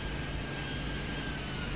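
Airplane taking off in the video game Air Traffic Insanity, a steady broadband jet engine roar, loud and unbroken for the whole short stretch.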